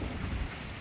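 Steady rain pours straight down onto a front porch, a dense, even hiss with a low rumble that stays constant throughout and carries no voices.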